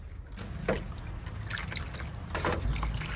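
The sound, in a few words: mixing glycerin solution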